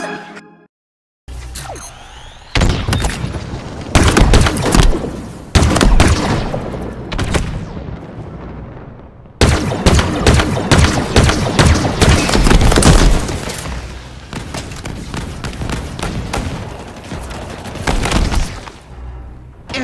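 A thrown bomb explodes amid gunfire in a Halo Infinite Firefight match: dense bursts of rapid shots and heavy booms come in loud, clustered volleys, broken by short near-silent gaps.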